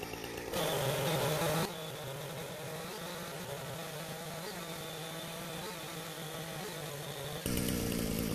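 A chainsaw engine runs steadily at a distance while sawing logs, briefly revving louder at the start and again near the end, with no voices.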